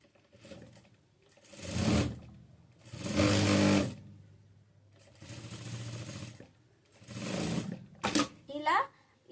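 A sewing machine stitching a frock nighty, running in several bursts of whirring and clattering separated by pauses, close up and loud, with a short rapid run near the end.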